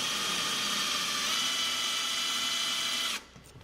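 A loud, continuous high-pitched drill whines steadily into brickwork for about three seconds, then stops abruptly, leaving quiet room noise.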